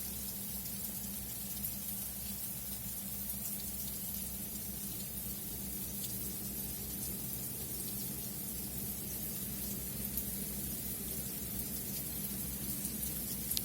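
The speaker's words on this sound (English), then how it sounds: "I just love the sound of rain." Rain falls steadily outside a window on a morning in the Pocono region, giving a faint, even hiss with soft scattered patter and no voices.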